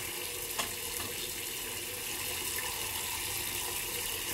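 Tap water running steadily into a sink while preparing for a shave, a continuous rushing splash at even loudness throughout.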